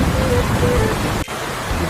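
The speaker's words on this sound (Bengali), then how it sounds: "বাইরে শুরু হয়ে গেল প্রচন্ড ঝড় বৃষ্টি" Heavy rain pours in a dense, steady wash with a deep rumble of thunder, cut off abruptly near the end as a storm sound effect.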